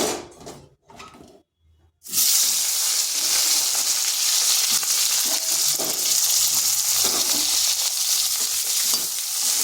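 Eggplant pieces frying in hot oil in a pan give a loud, steady sizzle that starts abruptly after a couple of seconds of quieter handling noises and continues unbroken.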